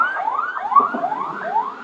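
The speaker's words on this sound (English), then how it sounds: "You hear that? The ambulance a pass." A passing ambulance siren wails in rapid repeating rising sweeps, loud and steady, with no talking.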